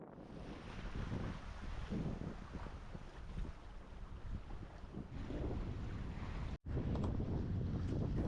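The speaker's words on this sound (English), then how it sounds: "the wind eases off." Steady wind buffets a sailboat near the top of a Scottish sound by two lighthouses, a continuous broadband rush with water wash, constant and fairly loud, with one brief dropout near the end.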